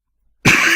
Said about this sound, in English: I've got tickly cough, it's going to bug me.